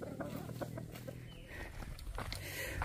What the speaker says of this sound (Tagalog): Mga tandang yan, sasabungin yan.